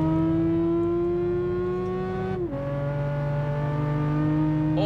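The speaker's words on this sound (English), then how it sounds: "here's the first lot of cars coming past" Race cars in Gran Turismo 5 stream past with a high, strained engine whine that bends down in pitch as one car passes close, then further engines drone on at a steady, fairly loud level.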